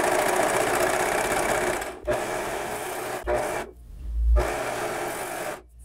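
A Singer overlock machine sews tulle with two needles and overlock thread, running loud and steady in fast whirring bursts broken by short pauses, with no talking.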